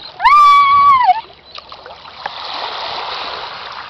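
A person splashes into water: a short high vocal cry rings out first, then a soft, sustained wash of splashing and churning water follows close by.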